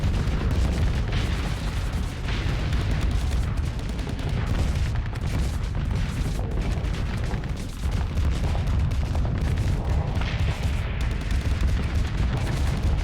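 Dense, continuous broadside cannon fire from warships in a Starsector space battle, a loud rumbling barrage of overlapping booms and blasts with no pauses for the whole stretch.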